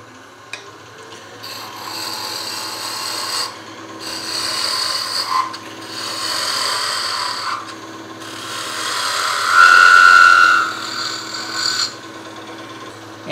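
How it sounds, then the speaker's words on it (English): Wood turning on a lathe with a spindle roughing gouge: a steady motor hum under a few long, rasping cutting passes that swell and fade, each scraping pass close and fairly loud. "And I'd do that with my spindle roughing gouge."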